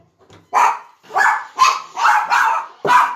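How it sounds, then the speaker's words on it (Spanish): Small pet dogs bark at a home's front door as family arrives, a run of five loud, close barks in quick bursts, with no talking over them. "Por eso que mis perritas ladran tanto."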